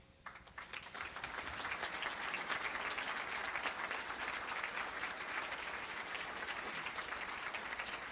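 Audience applause fills a hall at an athletic hall of fame ceremony, a steady crowd of clapping hands that swells after a quieter start and holds at full strength throughout.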